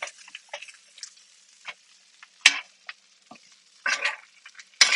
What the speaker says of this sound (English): Let's flip it over. I'm going to do it with the spoon here